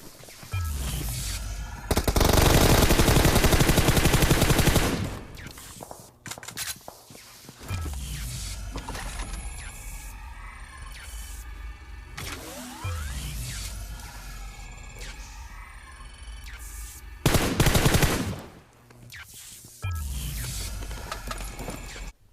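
Bursts of automatic gunfire from the PUBG Mobile battle royale game ring out in loud sustained volleys with quieter stretches of shots and footsteps between them.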